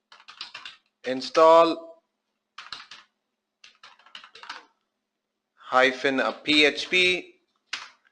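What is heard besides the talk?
typing a command on a computer keyboard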